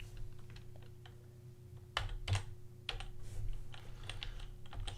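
Clicky keystrokes on a computer keyboard come in short bursts with brief pauses over a steady low hum, fairly quiet and close by, with no talking.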